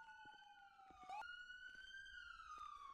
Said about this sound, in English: Okay, we're gonna do it with these sirens.